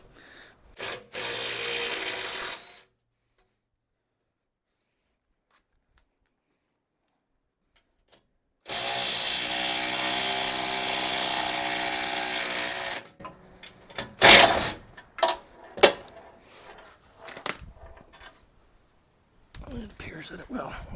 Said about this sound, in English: after I take these last two bolts off, this whole thing will come right off